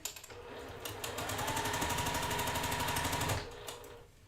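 A sewing machine stitches quilt rows together across nested seams, a fast steady mechanical chatter that starts, runs evenly for a few seconds, then stops.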